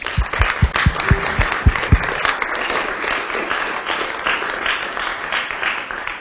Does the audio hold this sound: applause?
yes